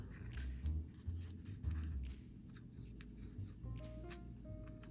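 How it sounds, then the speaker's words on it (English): A dollar bill being folded into an origami elephant, faint close papery creasing, rubbing and crinkling over a low background hum, with a few soft sharp taps. "we're going to take this point and make a small inside reverse fold"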